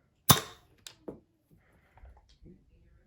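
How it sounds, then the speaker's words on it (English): A Nerf Modulus Mediator barrel fires with one sharp, loud pop near the start, followed by a few fainter clicks and handling knocks. "And then press this little orange button to fire."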